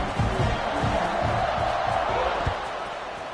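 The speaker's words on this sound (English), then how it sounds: "this crowd is buzzing after that last score" A steady, dense crowd murmur from a Madden American football video game fills the whole stretch, with faint thuds and scattered bursts rising and falling in the background, loud and continuous throughout.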